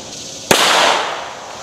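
A single sharp pistol shot fired on a velocity-testing range, a loud crack that decays over about a second with no voices.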